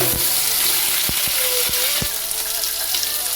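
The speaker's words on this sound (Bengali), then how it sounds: "টমেটোটাও আলুর সাথে ভেজে দিচ্ছি।" Diced potatoes and chopped tomato fry together in a pan, giving a steady loud sizzle with a few brief sharp clicks over it.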